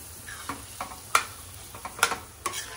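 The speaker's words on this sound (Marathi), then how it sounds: "आता ते या हलव्यावरती टाकणार आणि मस्त मिक्स करणार आहे" Dry fruits fried in ghee are stirred into carrot halwa in a pan, giving a soft, low hiss broken by several close scrapes and taps of the spoon against the pan, with no voices.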